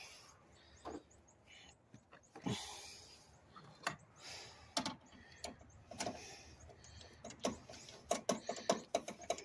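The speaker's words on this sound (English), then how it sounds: "now what I need to do first is tighten this bolt up, and then we'll tighten up that bolt" Ratchet wrench tightening bolts on a 2011-2016 Hyundai Elantra during a serpentine belt job, heard as scattered close clicks and short ratcheting bursts with clanks, growing busier toward the end, no talk.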